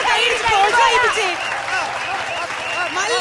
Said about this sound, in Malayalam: എല്ലാവരും കൈയടിച്ചേ, പ്രോത്സാഹിപ്പിച്ചേ.